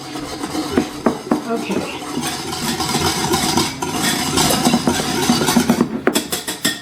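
A utensil stirring and clinking against a bowl, dissolving sugar for a coleslaw dressing, with a steady scraping rhythm and repeated light taps, close and fairly loud, with a brief spoken word.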